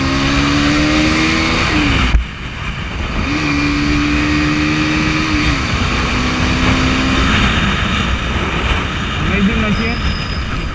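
NS 200 BS6 ABS motorcycle engine humming steadily on the road, pitch rising and settling through gear changes with a brief thump, close and loud under wind noise.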